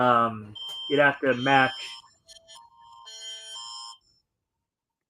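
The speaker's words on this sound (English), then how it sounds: "I think some sort of Amber Alert in the area" A phone's Amber Alert emergency tone sounds as a series of short electronic beeps and a steady buzzing note for about two seconds, right after a brief stretch of speech.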